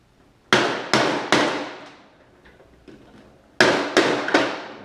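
A hammer strikes parts out of a 2012 Ford Focus engine during a valve cover gasket job: three sharp metallic blows, a pause with faint taps, then three more ringing hits.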